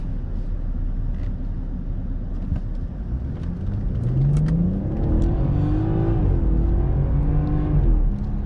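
A 2019 BMW 740i xDrive accelerates hard with a rising engine note that climbs and shifts. Heard from inside the cabin, steady and fairly loud, with no talking.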